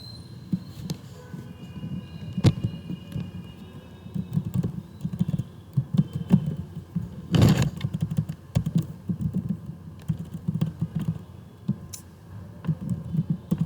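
Rapid clicking of a computer keyboard during coding, a steady run of close, moderately loud keystrokes with irregular rhythm and a few sharper clacks, no voice over it.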